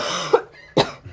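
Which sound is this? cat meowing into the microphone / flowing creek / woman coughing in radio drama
woman coughing in radio drama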